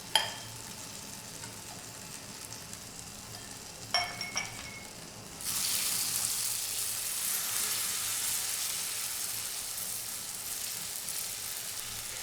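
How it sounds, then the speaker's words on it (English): Sliced red onions frying in melted butter in a pan over medium heat: a couple of clinks of utensil on pan, then a steady, even sizzle that swells in and continues close up. "add your 400 grams of sliced red onions to the pan"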